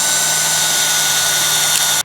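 A power drill drives screws into wood while a trellis is built on a garden bed, a loud, steady high whine held for about two seconds before cutting off abruptly.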